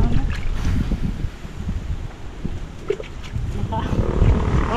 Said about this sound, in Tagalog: maangin kasi dito, sobrang hangin